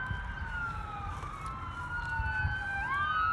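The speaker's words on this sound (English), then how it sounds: "Now there's some ambulances going by." Wailing ambulance sirens rise and fall over a low traffic rumble, moderately distant and drawing slowly past a cemetery.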